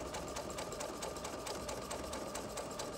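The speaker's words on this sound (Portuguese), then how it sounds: "eu vou costurar mantendo o meu tecido aqui" A sewing machine stitches straight along the edge of a piece of fabric, giving a steady, close whir with a fast regular needle tick that runs unbroken throughout with no voices.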